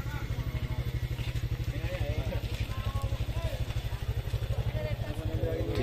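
Two motorcycles tow a vehicle up a steep incline, their engines running in a loud, steady, rapidly pulsing drone throughout, with voices talking over them.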